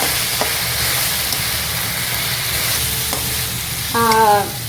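Ground chilli garlic paste sautéing in a pan for chilli garlic chicken noodles, giving a steady close sizzle with a few soft scrapes of stirring and a brief sharper burst near the end, no talking.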